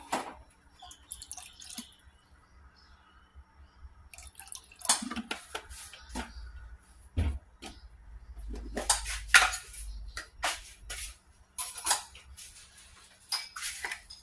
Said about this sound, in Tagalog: Timplahan natin ng toyo.